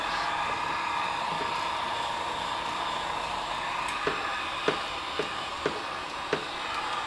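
A hair dryer blows over fresh paint on a 1:350 scale Klingon K'tinga cruiser model kit, giving a steady airy whoosh at moderate level, with a few sharp clicks near the end.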